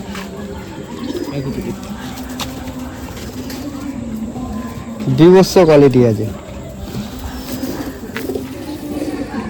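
A male Madrasi pigeon gives one short, throaty cooing call in the middle, near and clear, while someone talks throughout over faint background chirps.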